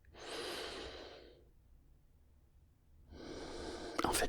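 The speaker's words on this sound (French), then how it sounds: "je prends une grande inspiration comme ça" A person takes a slow, deep inhalation through the nose, a long airy breath lasting about a second, a pause of near silence, then a second drawn breath beginning, close to the microphone with no talking.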